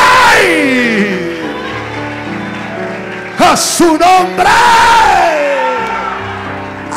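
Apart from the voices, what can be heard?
congregation applauding and cheering for Adonai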